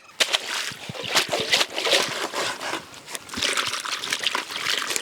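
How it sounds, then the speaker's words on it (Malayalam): Farm-fresh strawberries from Vattavada are washed by hand under running water, with close trickling, sloshing and splashing in uneven bursts and no talk over them. "നല്ലോണം കഴുകി ഒരു 3 റൗണ്ട് നമ്മൾ കഴുകി എടുക്കുകയാണ്"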